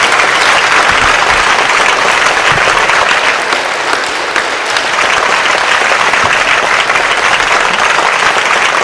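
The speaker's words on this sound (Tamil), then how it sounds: "அரங்கம் முழுதும் அருள் கூர்ந்து எழுந்து நின்று கரகோஷம் அளிக்குமாறு" A full hall audience rises in a standing ovation at a temple-related lecture, dense loud applause filling the room continuously from start to finish with no letup.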